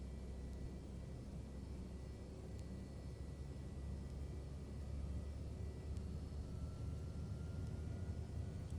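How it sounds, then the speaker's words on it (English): Lockheed L-1011 TriStar jet engine spooling up in Flight Simulator X: a steady, broad low rumble with a faint high whine, holding level and swelling slightly in the second half, with no talking. "it looks like it started. It sounds like it's still spooling up"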